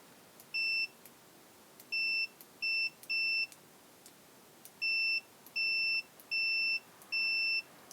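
A Kaiweets multimeter in continuity mode gives eight clean, high electronic beeps in an uneven series, each lasting roughly half a second, clear and close over faint background hiss.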